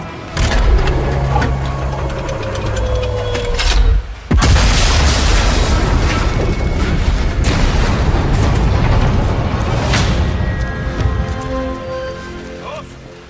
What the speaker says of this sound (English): The gun will blow when it's fired.